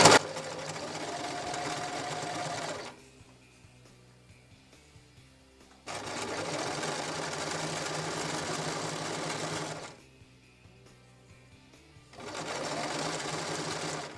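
Domestic sewing machine stitching several layers of fabric for a table napkin, running in three steady bursts of about three seconds each with quiet pauses between, close and fairly loud.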